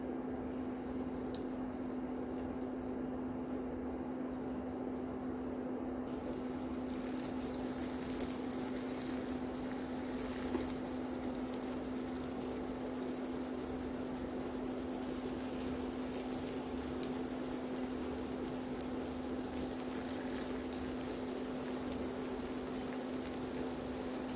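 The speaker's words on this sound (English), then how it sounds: "Our spring rolls is ready to fry. with our heated oil. Let's fry our spring roll." Spring rolls filled with minced meat frying in hot oil, a steady broadband sizzle that continues throughout with a constant tonal hum underneath and no talking.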